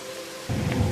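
Heavy rain pours down on a mountain hiking trail as a steady hiss that suddenly thickens into a louder, rumbling downpour halfway through.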